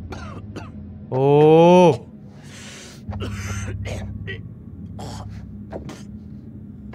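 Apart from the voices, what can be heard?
bad cough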